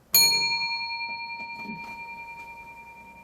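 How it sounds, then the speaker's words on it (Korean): A single clear bell strike rings out after morning worship prayers, its bright tone sustaining and slowly fading with a gentle wavering shimmer over about three seconds, heard alone without talk. "오늘도 맑고 고운 종소리가 은은하게"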